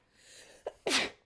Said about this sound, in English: I sneezed like directly towards the mic.